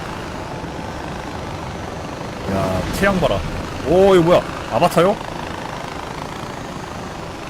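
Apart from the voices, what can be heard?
helicopter in video game Far Cry 4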